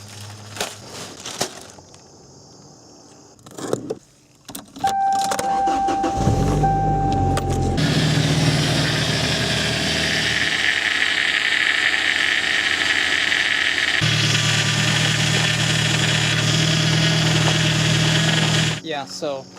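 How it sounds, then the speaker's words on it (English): Power steering on a Toyota Tacoma with a leaking return hose whines while the engine runs, a steady droning tone over the motor's rumble after a few knocks and a brief higher whine, close and continuous. "you can definitely tell that the power steering is making that whining noise"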